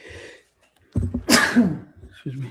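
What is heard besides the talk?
sneeze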